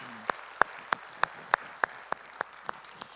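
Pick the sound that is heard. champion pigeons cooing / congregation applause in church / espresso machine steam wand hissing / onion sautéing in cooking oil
congregation applause in church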